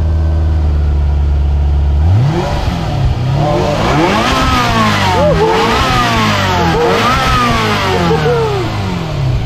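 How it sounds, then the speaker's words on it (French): 1992 Ferrari 348 TS with a 3.4-litre V8 sits at a steady idle, then is revved hard in repeated loud rising and falling surges, close and alone without talk. "la sonorité de ce joli V8? Est-ce qu'il est très mélodique selon vous?"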